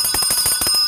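Rapid bell ringing like a bicycle bell, a series of bright metallic dings repeating in quick rhythm for under a second, loud and close with no voices.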